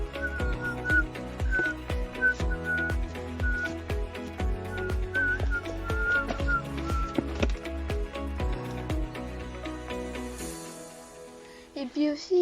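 Someone whistles a wavering tune over rhythmic background music with steady beats. The whistle runs for about ten seconds at moderate loudness, then the music cuts out near the end.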